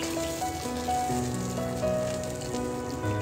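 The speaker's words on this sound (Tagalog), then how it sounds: "put some oil or enough oil for frying the ginger then let it uh, fry for a while then add some garlic" Ginger, then garlic, sizzling steadily in hot oil in a pan while cooking duck feet, a continuous close frying hiss with tonal background music throughout.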